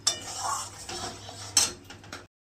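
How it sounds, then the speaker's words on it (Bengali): A spoon scrapes and clinks against a pan while stirring a vegetarian aloo dum masala with salt, turmeric, sugar and cashews, giving close, steady scraping with a couple of sharper clanks and no talk. "ঘন ঘন নাড়তে হবে, না হলে লেগে যাবে"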